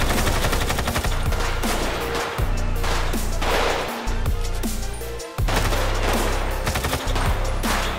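Rapid automatic gunfire rattles in GTA 5 zombie survival mode, loud, close bursts of machine-gun fire with brief pauses between volleys.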